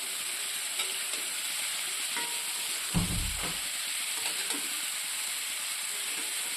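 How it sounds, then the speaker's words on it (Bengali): Vegetables and onions fry steadily with a constant sizzling hiss while a spatula stirs them, and a louder scraping stir comes near the middle. Nobody speaks. "তো গাইস সবজি আর পেঁয়াজ মোটামুটি ভাজা হয়ে এসছে"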